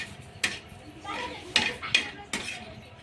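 A utensil scrapes and knocks against a pan as coconut is roasted and stirred. Several sharp metallic clinks land at irregular intervals over a soft background hiss.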